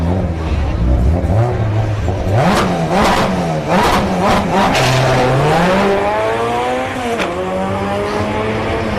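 A supercharged Honda Civic makes a solo drag strip pass at a no-prep event at Orlando Speed World, its engine revving hard through rising gear pulls, loud and close, with a brief tire squeal.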